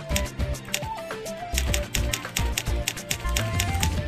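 Rapid clacking typewriter key sound effect in the video game Elsword, a steady run of sharp taps layered over soft game music with shifting melodic tones.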